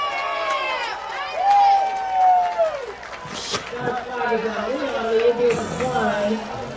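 Florida High football crowd at a game against Leon lets out a loud, sarcastic cheer, voices swelling then settling into a lively crowd roar, with a clear voice briefly standing out at the start.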